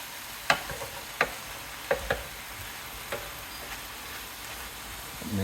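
Meat sizzles and browns in a pan under a constant soft frying hiss, with a few sharp clicks and taps scattered across it, as if the meat is being stirred or turned.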